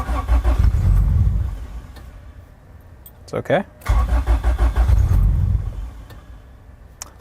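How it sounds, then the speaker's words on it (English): A Honda Civic race car engine cranks over and catches with a brief burst, then settles into a rough, lumpy idle and a little revving, close by, with a person talking over parts of it. "Just gonna give it a little gas."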